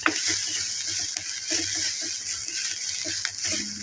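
A steady, soft sizzle of vegetables sautéing in a pan for a veg omelette, with occasional light scraping from stirring, close up and without talk.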